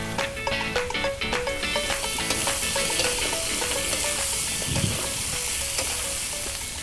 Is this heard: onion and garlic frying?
yes